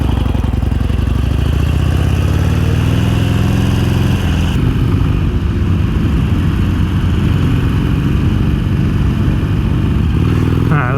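A motorcycle engine runs steadily and loudly while being ridden, with a shift in pitch and texture midway as the rider changes throttle or gear, continuing without pause.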